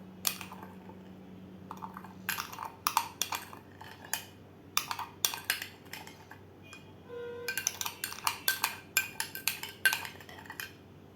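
A spoon clinks against a glass while stirring iced coffee made with milk and Nescafé, in quick irregular bursts of sharp metallic taps close by, with a short pause partway through and no talking.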